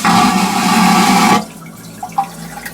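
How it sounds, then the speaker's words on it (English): Crew cabin toilet aboard a cruise ship, flushing with a loud, close whooshing roar that lasts about a second and a half, then cuts off abruptly and leaves a few faint drips and gurgles. "We have a mirror with a sink and a toilet, so it makes a pretty loud sound actually."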